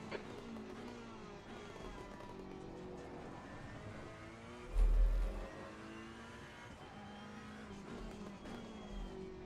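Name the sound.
race car engine in video game Assetto Corsa Competizione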